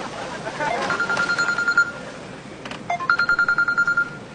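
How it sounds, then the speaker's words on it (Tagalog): Telephone ringing with an incoming call, two bursts of rapid electronic trilling tones separated by a short gap, moderately loud indoors. "Oh, may tumatawag sa iyo."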